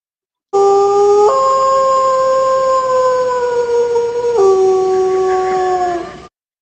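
A wolf howl sound effect rises, holds a long wavering note, then dips lower and fades out, loud and close over about six seconds with no voices.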